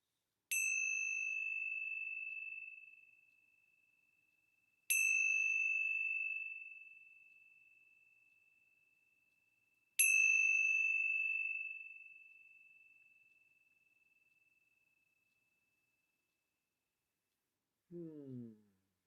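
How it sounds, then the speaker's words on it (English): Three clear bell strikes spaced about five seconds apart, each ringing out with a long, slowly fading sustain in a quiet room. "let's begin our time together with the ringing of the bells."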